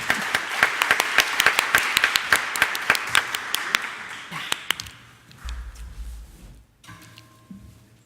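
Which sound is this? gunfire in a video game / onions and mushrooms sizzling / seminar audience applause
seminar audience applause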